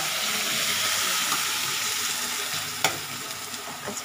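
Onion sizzles in a pan with garlic and dried chili, a bright, steady frying hiss that fades slightly as it goes, broken by a few sharp crackles and stirring scrapes.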